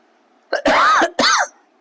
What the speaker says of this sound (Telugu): కొంచెం కాఫ్ ఇబ్బంది పెడుతుంది